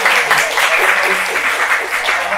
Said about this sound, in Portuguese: palmas para vocês que estão aqui,